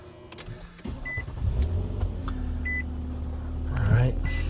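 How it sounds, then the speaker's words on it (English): A Nissan Maxima engine starts and settles into a low, steady idle heard from inside the car, with a few faint electronic chimes over it. "let's start the car."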